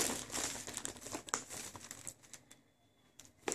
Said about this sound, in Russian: Туалетная бумага.